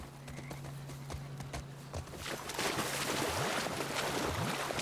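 Horse hooves clip-clopping in The Last of Us Part II, rhythmic footfalls that speed toward a gallop as rushing water and wind swell in the background.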